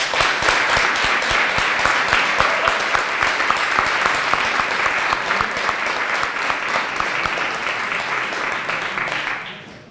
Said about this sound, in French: On peut applaudir Louisa Cicérir.